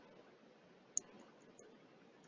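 A single crisp computer mouse click on a quiet desk, sharp and close, followed by a fainter second tick amid low room hiss.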